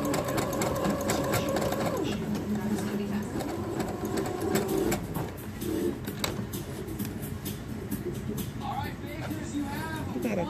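A sewing machine stitches wig wefts with a steady, loud mechanical whir and rapid needle chatter close up, running continuously while someone talks over it.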